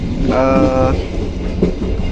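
Interior of the Bengawan economy-class train between Solo, Jogja and Jakarta rolling along the rails, a steady loud rumble with a brief tonal squeal near the start.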